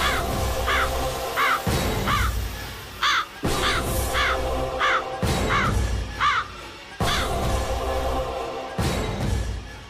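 A crow caws in repeated short bursts, about two calls per second in clusters, loud and close, over a dense steady background din that shifts abruptly every few seconds.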